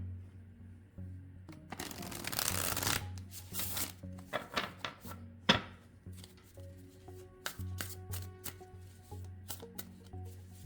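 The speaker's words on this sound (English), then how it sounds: "This is a deck I love to shuffle" An oracle card deck being shuffled by hand, close and crisp: a long riffle burst followed by a string of shorter flicks and taps, with a faint hum under it.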